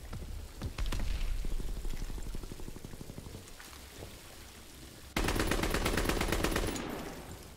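A strafing run in Call of Duty: WWII rattles off rapid machine-gun bursts, a sustained stream of fire, a short lull, then a louder, denser volley near the end.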